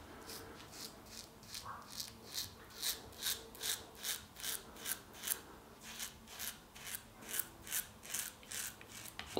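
A Merkur Futur chrome safety razor rasps across lathered stubble in steady, rhythmic strokes, a crisp scratchy sound repeating about twice per second, close and alone.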